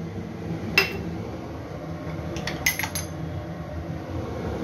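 A few sharp metallic clinks of a spoon against the kofta cooking pot as garam masala paste goes in, two separate taps over a steady low kitchen rumble.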